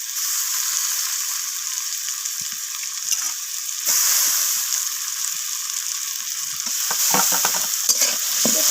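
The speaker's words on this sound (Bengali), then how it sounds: "তো টমেটোটা দেওয়ার পর আমি পেঁয়াজের সাথে টমেটোটাকেও ভেজে নেব নরম হওয়া পর্যন্ত।" Chopped tomatoes frying with browned onions in a pan for a fish curry, giving a strong, steady sizzle with repeated scraping stir strokes that grow busier toward the end, close and loud with no speech.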